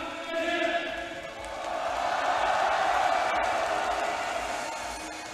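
A big esports arena crowd at Rift Rivals cheers and roars in a steady swell, heard at a moderate distance with no single voice standing out.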